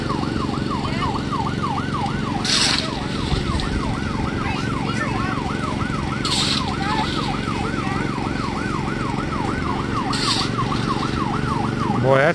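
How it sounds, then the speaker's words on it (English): An emergency vehicle siren near covered bridges in Rockville, Indiana, wailing in a continuous, evenly repeating up-and-down sweep over a steady road and traffic hum, staying loud and constant throughout without any speech. "that's the slowest moving siren I've ever heard"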